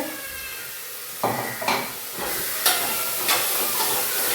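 Ginger, green chili, shallots, garlic and cumin frying in a pan, a continuous bright sizzle with stirring scrapes and knocks of a spoon against the metal, close and fairly loud.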